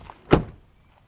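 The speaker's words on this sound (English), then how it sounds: "Once you close the door" The door of a 2015-2020 Ford F-150 pickup shuts with one solid, close thunk that decays quickly into quiet.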